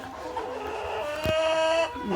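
Fayoumi and Brahma chickens make a mix of clucks and a drawn-out crow, close and fairly loud, with a brief sharp knock partway through.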